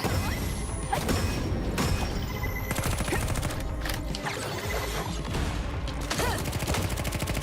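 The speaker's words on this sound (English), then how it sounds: "The machine gun." Heavy machine gun fire in the game Silver Palace, with dense rapid bursts and sharp impacts running nearly continuously, loud and close, with mechanical clatter and whooshes mixed in.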